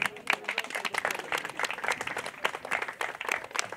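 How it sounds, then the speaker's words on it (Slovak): Audience claps for women runners at a fitness race awards ceremony, a modest group of hands clapping in a quick, uneven patter, close and clear, with no talk over it. "Poprosím, veľký potlesk."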